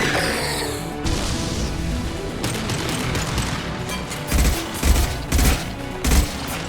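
Rapid gunfire and heavy explosive crashes from a Mass Effect 2 firefight: a dense, continuous fusillade with several loud, punchy blasts landing in the second half, no talking over it.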